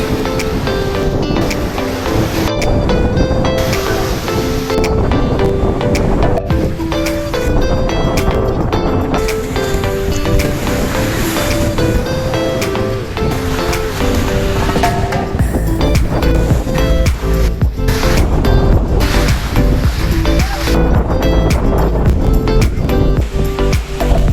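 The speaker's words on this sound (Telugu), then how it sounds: "అలలు మాత్రము భయంకరంగా కొడుతున్నాయి" Loud ocean waves crash and surge continuously onto the shore, with strong wind buffeting the microphone throughout.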